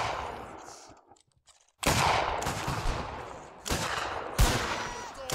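A volley of rifle fire rings out in Mount & Blade Warband, with a few scattered shots, a near-silent pause, then several loud bursts of massed gunfire crackling close by and echoing.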